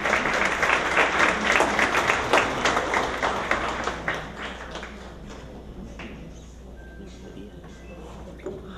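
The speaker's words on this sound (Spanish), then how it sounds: "Recibamos con caluroso aplauso al doctor Hugo Ramiro Gómez Zapac" Warm applause from an audience at a legal advisory offices convention in Peru, greeting a doctor taking the stage; dense, loud clapping fills the first half then thins and fades out.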